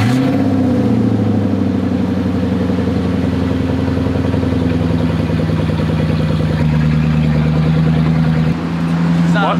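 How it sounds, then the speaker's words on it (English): A straight-piped Lexus LS430 with no exhaust, sitting parked all day, fires up from a cold start into a loud, raspy, throbbing idle that stays steady and close, with a slight dip near the end. "So we're gonna get a real cold start of no exhaust."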